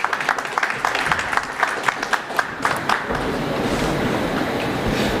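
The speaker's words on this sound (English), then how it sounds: "Big round of applause." Audience applause at a medtech panel event, a burst of clapping that swells and continues steadily for several seconds, fairly loud and close, with no talk over it.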